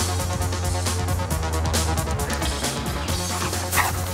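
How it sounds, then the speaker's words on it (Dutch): A rescue dog in training on a grassy field barks repeatedly over several seconds, the barks fairly close and steady against a constant low background hum. "De hulpverlener leert de hond om te blijven blaffen"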